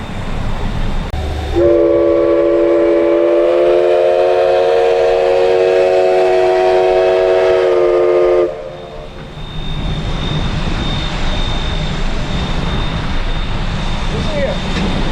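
A train horn on the Oregon Coast Scenic Railroad blows one long, loud, steady blast for several seconds, then cuts off, leaving rumbling outdoor noise and distant train sounds.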